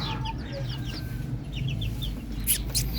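Hens cluck in short scattered calls over a steady low rumble, with a couple of sharper bird calls near the end.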